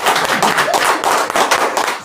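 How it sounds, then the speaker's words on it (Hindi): A group claps for a female trainee during a leadership training session, a dense, steady burst of hand claps that fills the whole moment without talk. "जोरदार ताली मैम के लिए"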